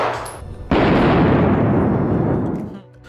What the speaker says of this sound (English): When a 9mm bullet is shot on a 3mm thick molybdenum plate, it easily pierces a hole.